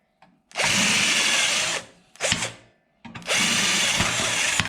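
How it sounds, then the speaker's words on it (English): A power drill whines loudly in two long bursts with a short burst between, drilling plug-weld holes through the metal of a Mercury Sable station wagon's rocker panel, close by with no voices. "that is that for drilling those holes for the plug welds here in the future"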